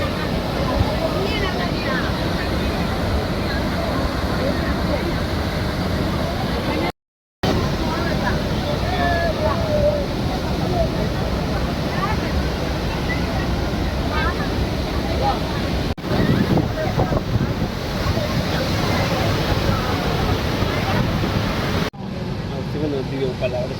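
The Athirapally waterfall roars with force, a loud, steady wash of crashing water with wind buffeting the microphone throughout, and brief dropouts in the sound.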